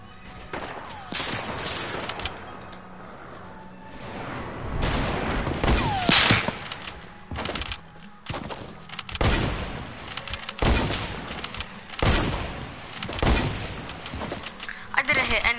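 Repeated video game gunfire in rapid bursts and single loud cracks over about fifteen seconds, some shots close and sharp, others more distant, with players talking over it.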